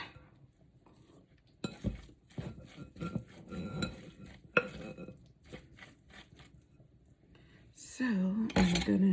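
Crab cake mixture being folded in a bowl, heard as soft wet stirring with spoon scrapes and clinks against the bowl. Close, irregular strokes, with a few muffled sounds near the end.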